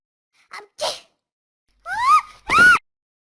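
A voiced, cartoonish sneeze imitation in a Turkish children's song with a talking cat: two short breathy bursts, then two louder, drawn-out 'achoo' cries with a rising-falling pitch.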